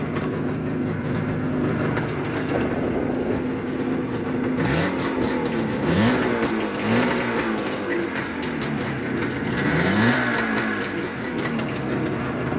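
A motorcycle with a sidecar, started cold, idles high and rough, then revs several times in short rising bursts, loud and close with no talk.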